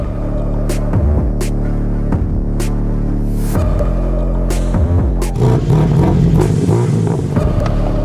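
BMW M3 G81 engine revving nearby, with loud repeated throttle blips and rumbling pulses over a steady throbbing idle, building into a rougher, fuller roar near the end.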